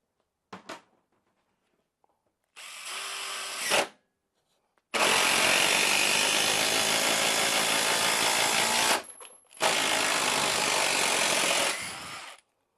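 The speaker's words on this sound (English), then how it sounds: "Really important to use an impact drill if you have one." Impact drill driving a LedgerLok structural bolt to fasten deck framing to a house, heard as two short loud bursts of whirring and hammering impacts, then a long sustained drive and a final burst, close up with no talk.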